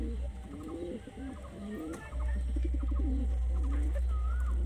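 A pigeon coos in repeated soft, throaty phrases close by, while a low hum rises partway through.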